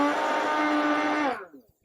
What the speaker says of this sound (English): Here, it is charging my computer and powering this blender